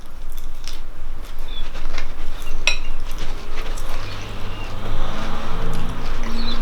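A spoon or utensil scraping and clinking against a dish while scooping out a small starter, close-up light metallic taps and scrapes over a low background rumble.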